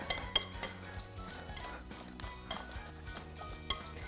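Chopped egg is mixed in a bowl for an Instant Pot breakfast dish, giving soft scraping with sharp clinks of a utensil against the bowl at irregular intervals, close and fairly quiet, with no talking.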